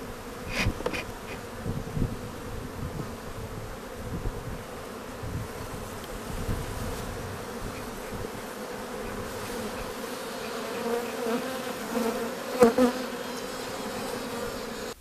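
Dense, steady buzzing of many honey bees continues throughout, close and constant, with occasional louder passes near the listener.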